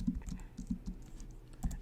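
Quiet typing on a computer keyboard as equations are entered into Desmos, a soft, irregular patter of keystrokes heard close by over a faint room hum, with no speech.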